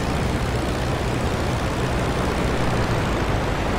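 An Albatros D.III's engine in the Rise of Flight flight sim is opened to full throttle, a steady loud propeller drone with a deep low rumble holding constant throughout, no voices.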